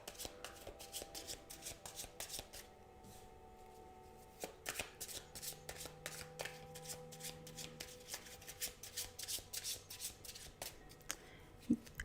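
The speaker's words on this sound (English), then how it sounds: "That card popped out at us, Anna." Tarot cards are shuffled by hand at close range, in a long series of quick riffling flutters and soft taps with brief pauses between them. The sound is fairly quiet.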